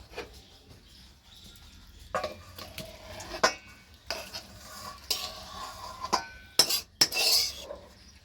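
Cooked bhoger labra, a mixed vegetable curry, is scraped and poured out of the pan with a metal spoon. Intermittent clinks, taps and scraping strokes sound close against the cookware over a faint background sizzle.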